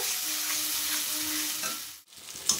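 Spice masala frying with a splash of water for a fish curry, giving a steady close hiss and sizzle that drops out abruptly near the end before a short clink, no talk.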